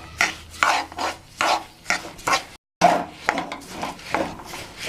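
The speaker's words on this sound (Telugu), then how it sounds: "సిద్ధమైన పాకంలోకి ముందుగా వేయించి పెట్టుకున్న నువ్వులని వేసుకుందాం. బెల్లం అంతా కలిసిపోయేలాగా మంచిగా కలుపుకోవాలి." Roasted sesame seeds are stirred into jaggery syrup in a pan, a rhythmic gritty scraping repeated about six times in steady strokes, close and alone with a brief gap partway.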